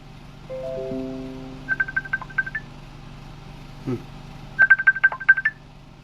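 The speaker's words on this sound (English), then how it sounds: "Which phone just ringing?" During a call-in radio show, a telephone sounds a few descending tones and then two quick bursts of dialing or ringing beeps, clear and close, with no talking.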